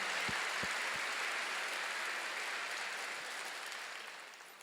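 Church congregation claps together during a sermon, a dense burst of applause that holds steady and then slowly tapers off, with a few low thumps near the start.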